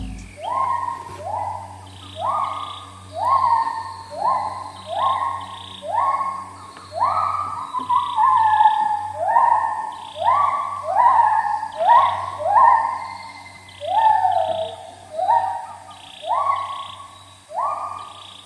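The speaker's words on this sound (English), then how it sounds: "So that is the sound of the gibbon's monkey" Gibbons call from a river setting in Thailand near a raft house, a long run of rising whooping notes repeating in steady rhythm, moderately distant, with a low hum underneath and no talk.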